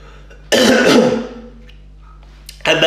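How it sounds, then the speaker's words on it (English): A man with a cold lets out a harsh, chesty cough burst, then after a short pause starts into another loud, raspy cough up close. "And that's before I've coughed the guts up as well."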